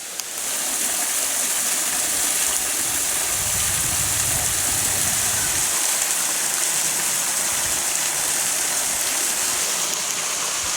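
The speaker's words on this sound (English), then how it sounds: "I think we hear water and it sounds like it's gushing pretty good" A steady, loud rush of water pouring and splashing continuously from a small stepped waterfall on Baines Creek at Fort Parker, close by, with no voices.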